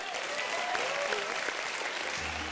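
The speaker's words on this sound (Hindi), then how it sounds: "जोरदार तालियां हो जाए" Loud, dense applause from a TV comedy show studio audience fills the whole clip, steady and continuous with a bit of cheering mixed in.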